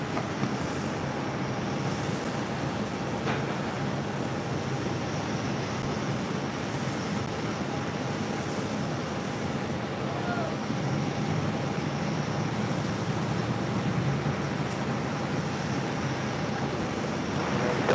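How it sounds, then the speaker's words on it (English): Steady, broad roar of a British Airways Boeing 787-10 Dreamliner arriving at JFK from London, heard from a distance as a continuous wash of engine noise with wind, holding level throughout. "Next heavy arrival is the Speedbird 787-10 Dreamliner coming up from London"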